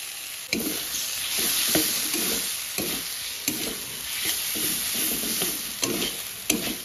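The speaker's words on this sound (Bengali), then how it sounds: "মশলাটা কষানো হয়ে গেছে, এখন ভাজা আলু দিয়ে দেবো" Fried potatoes are stirred into a cooked-down paste of turmeric, salt and chopped tomato in a pan, with a soft ongoing sizzle broken by regular scraping stirs about once a second, close and unaccompanied by voices.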